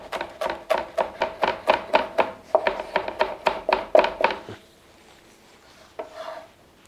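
A kitchen knife minces garlic cloves for a fish sauce on a board, giving a steady run of about fifteen quick, crisp chopping taps over four seconds, then a pause and one last faint chop.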